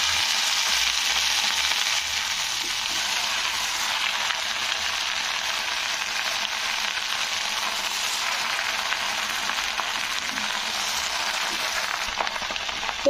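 Sour okra leaves frying in a little oil give off a continuous, even hissing sizzle that stays close and fairly loud throughout, with no talking over it.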